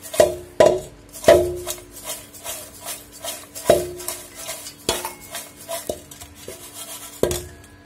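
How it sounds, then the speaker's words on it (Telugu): Popcorn being mixed with salt and chaat masala in a metal vessel, sharp scattered clanks and ringing taps of a spoon against the pan amid soft rustling, close and irregular. "ఉప్పు చాట్ మసాలా చల్లేసుకొని మనం మిక్స్ చేసుకుందాం ఫ్రెండ్స్"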